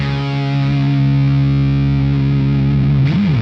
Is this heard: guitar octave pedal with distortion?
yes